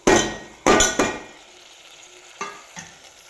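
A spoon clanks and stirs through a pan of frying onion, tomato, coconut, garlic and ginger masala, three loud scraping hits followed by softer taps over a quiet sizzle.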